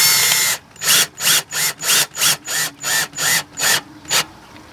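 A power drill set to a low clutch setting drives a screw to hold a boat vent in place, giving about ten evenly spaced ratcheting bursts that sound loud and close, with no talking.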